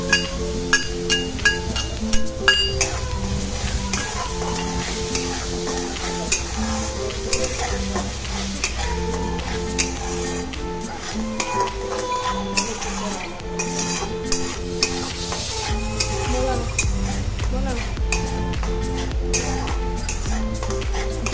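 Masala with tomato puree cooking in a pan: repeated scraping and clinking of a spoon against metal, a soft sizzle underneath, and a steady stirring rhythm throughout, joined by a faint tonal background.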